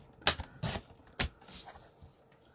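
Card paper being trimmed down to a 4 by 5¼ inch panel, three crisp sharp slicing strokes close up, then a quieter rustle of handling.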